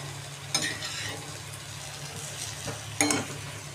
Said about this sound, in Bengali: এটা জাস্ট একটু নাড়াচাড়া করে নেব। দেখো জাস্ট নাড়াচাড়া করে নিচ্ছি।